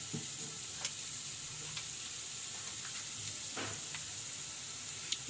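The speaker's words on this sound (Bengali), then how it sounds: "পেঁয়াজটা ভাজা হয়ে গেছে। এবার আমি এক এক করে মশলাগুলো দেবো।" Chopped onion with added turmeric and chili powders frying in a pan, a steady soft sizzle with occasional scrapes of stirring, fairly quiet and continuous.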